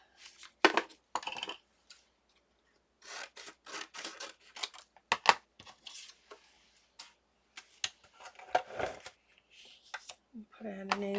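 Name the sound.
scissors cutting paper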